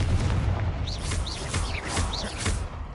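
Confringo fire spell blasts in Hogwarts Legacy, a series of loud booming explosions with bright whooshing bursts, several impacts in quick succession.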